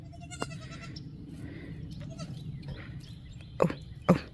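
Nigerian Dwarf baby goats give two short, close bleats near the end, over a steady low background hum with faint earlier cries.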